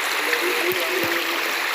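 Strong river water rushes steadily through a stream channel, a loud continuous wash of flowing water with a couple of faint low thumps.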